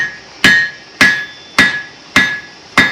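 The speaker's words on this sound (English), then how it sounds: "Hammering down hard, really hard. Flatten it out." A blacksmith hammers hot, glowing orange metal flat on an anvil at a historical village demonstration, five loud, ringing metallic strikes at an even pace, each with a bright ring that fades before the next blow.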